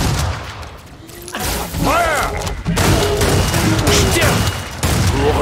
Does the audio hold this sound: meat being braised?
no